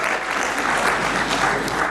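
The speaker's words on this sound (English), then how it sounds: "give him a round of applause" A crowd claps in a brief, dense burst of steady applause at a quiz-style development challenge event.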